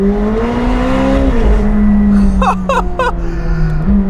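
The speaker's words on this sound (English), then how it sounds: "the gear changes are much smoother. It's so loud in this car." McLaren 765LT Spider, a 2022 open-top supercar, roars loud and close from inside the cabin as its engine pulls steadily, with a drop in pitch at each gear change and a few quick blips near the end. No one speaks.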